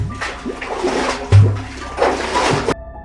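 A bucket plunges into a village well, water splashing and sloshing in a few bursts, with a heavy slosh near the middle and a sharp final splash before it cuts to quiet.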